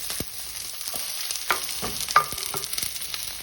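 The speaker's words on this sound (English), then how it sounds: "So if you hear a sizzle, you're doing well." Fajita vegetables sizzle and crackle in a hot frying pan, with scattered clinks and stirring scrapes, moderately loud and close.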